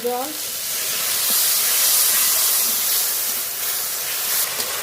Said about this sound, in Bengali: একটু জল দিয়ে মশলাটা ভালো করে কষিয়ে নেব